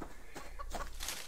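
Chicken clucking in a survival video game, a few short soft clucks over a low steady background hum, fairly faint and close.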